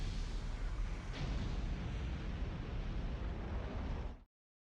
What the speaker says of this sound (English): That was the cannon that they said they were going to use